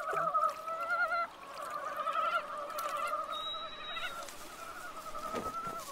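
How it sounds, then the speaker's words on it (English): Repeated honking, warbling frog mating calls rise and fall in a steady chorus in a forest at night, with a higher trill briefly joining in; continuous and fairly close, no talking. "As night falls, a serenade of mating calls fills the forest."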